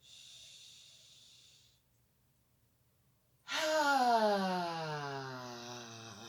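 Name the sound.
deep breathing during shoulder shrug exercise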